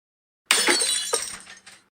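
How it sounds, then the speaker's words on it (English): Glass breaking with a sudden loud crash, bright shattering fragments, and a second smaller impact, the tinkling debris fading out over about a second and a half, close and alone. "The sound of glass breaking startled her awake."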